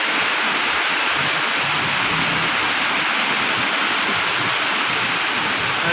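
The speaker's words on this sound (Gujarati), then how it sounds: "બહુ જ વરસાદ એટલો અવાજ આવે." Heavy rain pouring down, a loud, steady, dense hiss of falling water that fills the whole stretch without pause, close and unbroken.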